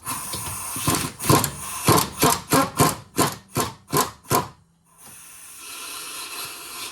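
Impact gun run in repeated short bursts driving a rear shock bolt on a 2017 Ford Escape, a rapid rattling hammer of about ten pulses up close, then stopping into quiet shop background.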